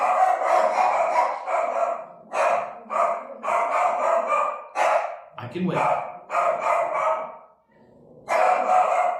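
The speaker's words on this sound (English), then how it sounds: "There are 2 cats playing outside, and the dogs are letting them know" Several dogs bark repeatedly at two cats playing outside, loud close bursts in an uneven run with short pauses, while a voice speaks briefly among the barks.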